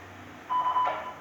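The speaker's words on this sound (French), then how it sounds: "c'est l'annonce automatique que fait le relais" An automatic SVX Link announcement from a radio amateur repeater: a brief, steady electronic tone with a slight hiss around it, heard once at moderate level over quiet background.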